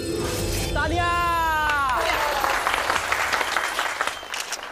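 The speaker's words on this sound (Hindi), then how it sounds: "तालियां।" A burst of clapping from a group, loud and continuous, following a brief voice, then thinning out toward the end.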